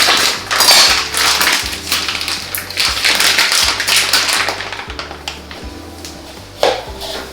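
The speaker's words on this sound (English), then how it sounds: "I'm going to open this bag." A sous vide bag holding pork is torn and opened, giving crinkly plastic rustles and scattered taps and clatters at close range against a steady kitchen background, with a sharper handling sound near the end.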